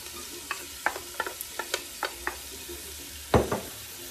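Onions fry in oil in a pot for a soup, with a gentle sizzle under a quick series of utensil clicks and scrapes, then one louder clatter near the end.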